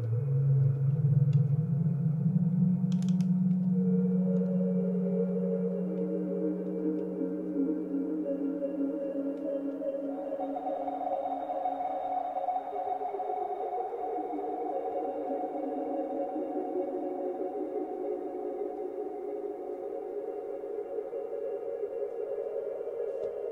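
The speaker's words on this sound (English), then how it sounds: "I'm just kind of massaging it with my mod wheel a little bit." A sustained synthesizer pad swells and shifts as the mod wheel is worked, low tones giving way to layered higher drones that slowly glide and waver, played alone at moderate loudness.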